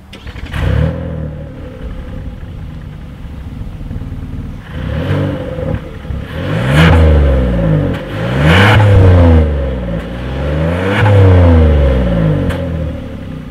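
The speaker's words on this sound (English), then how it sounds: "As always, here is that exhaust clip." Exhaust of a 2020 Kia Telluride with a single outlet and dual tips, heard up close as it idles and then revs repeatedly in several rising and falling bursts, with no talking.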